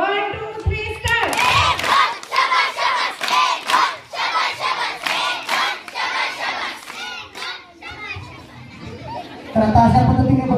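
At a village haldi-kunku ceremony, a large crowd gives a rhythmic group cheer of patterned claps and raised voices. It stays loud and lively throughout, with a fresh burst of noise near the end.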